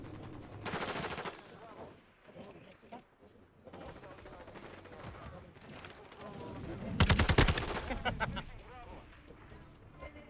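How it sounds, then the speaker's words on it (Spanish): SCAR rifle gunfire in Modern Warfare 2 comes as several rapid bursts of shots, one sharp loud volley near the end standing out, over busy game ambience while players talk throughout. "¿Qué arma es esa? La Scar, la he desbloqueado y me he puesto a usarla"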